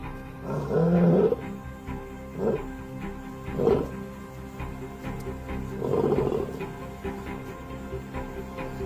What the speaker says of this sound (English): The roar can be heard over 8 kilometers away.